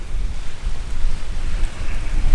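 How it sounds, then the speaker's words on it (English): Gusty wind buffets a microphone on a tripod outdoors, a steady low rumbling roar with surging pulses throughout and no voices. "So the wind is picked up."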